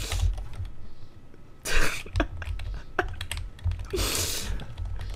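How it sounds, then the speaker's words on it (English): Close computer keyboard clatter while typing chat in the game Runescape, irregular bursts of crisp key clicks, with breathy noises and occasional low voices mixed in. "I'm just gonna type the first thing that comes into my mind."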